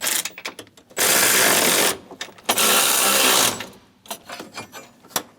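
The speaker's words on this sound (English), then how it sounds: "Snug the nuts down." Steering column nuts are tightened on a 2003-2025 Chevrolet Express 2500 with a power ratchet, giving two loud sustained mechanical whirring runs broken by short clicks and rattling bursts of the tool.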